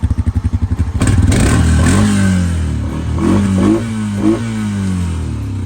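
A small RC car engine in neutral starts up and idles with a steady rapid putter, then revs up and down through several loud rising and falling bursts, close by with no talking.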